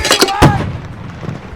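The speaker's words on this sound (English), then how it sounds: "As we see the mortars being used here" Mortar fire in a World War II combat scene at Carentan, a few sharp, loud blasts in quick succession at the start, then a fading low rumble.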